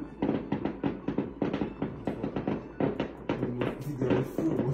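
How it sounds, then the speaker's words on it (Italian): Fireworks outside at night, a rapid string of crackling pops and bursts heard continuously, fairly close and loud, with faint voices in the background. "Bellissimo, vediamo i fuochi."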